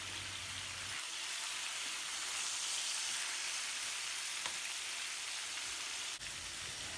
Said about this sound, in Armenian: Հիմա պղպեղները հանում եմ և թողնելու եմ միսը, որպեսզի մի քիչ էլ տապակվի